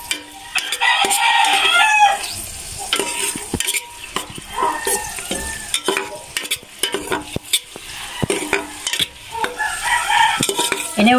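Onions are sautéed in a pan for chicken estofado, with sizzling frying, repeated stirring and utensil clatter against the pan, and a rooster crowing now and then in the background.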